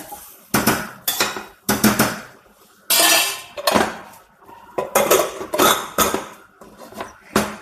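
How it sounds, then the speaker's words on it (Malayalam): A pressure cooker lid is handled and locked shut, with a series of sharp metallic clanks and scrapes in uneven bursts, loud and close, and no talking. "നമുക്കിത് അടച്ച് വയ്ക്കാം അല്ലേ."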